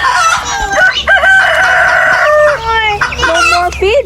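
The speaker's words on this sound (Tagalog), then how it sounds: "You feed the chicken, Lukoy. Feed the chicken." Chickens being fed in a backyard coop on an island, with loud, close clucking and drawn-out crowing-like calls. A rooster's cock-a-doodle-doo rises over the flock and continues throughout.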